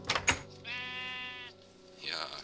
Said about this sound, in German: Ja, Schaf, alles klar.